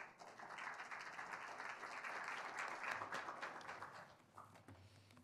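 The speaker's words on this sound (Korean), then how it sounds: "큰 박수로 맞이해 주십시오." Audience applause at a public seminar on the new US administration and East Asia, greeting a vice minister coming up to speak. Steady, dense clapping fills the room for several seconds at moderate level, with no voices over it.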